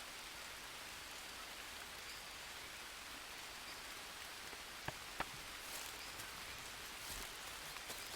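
Rain falls in the survival game Green Hell in PCVR as a quiet, even hiss, with a few faint individual drops ticking through it.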